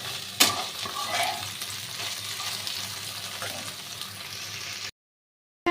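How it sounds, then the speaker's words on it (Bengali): Mustard, poppy seed, turmeric and chili paste fries in oil in a kadai for okra posto, giving a steady close sizzle with stirring scrapes and one sharp clack early on before it cuts to silence. "এবার এটা ভাজা ভাজা হয়ে গেছে, অনেকটাই ভাজা হয়ে গেছে, আর একটুখানি লাল লাল করে নিই"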